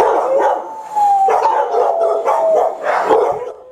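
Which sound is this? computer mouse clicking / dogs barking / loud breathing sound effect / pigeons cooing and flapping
dogs barking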